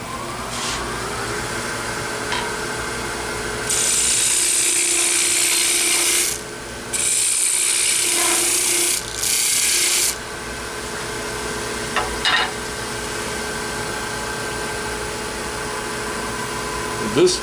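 A hand tool scrapes and smooths a wooden cone in steady rasping strokes, several sustained passes broken by short pauses, close and fairly loud over a constant background hum.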